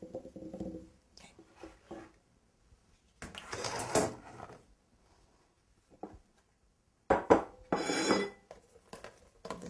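Pearl onions tossed and stirred in batter inside a bowl, giving two bursts of wet clattering and scraping against the sides, with quiet pauses between them.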